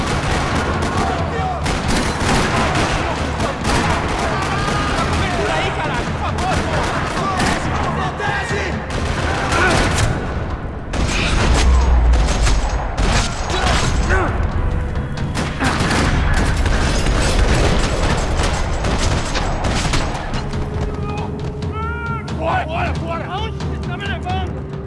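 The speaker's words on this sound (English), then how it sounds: "Another parking lot rattling with gunfire." Sustained gunfire in a parking lot in the video game Max Payne 3 rattles throughout, rapid bursts and booms layered with voices and game sounds, loud and continuous.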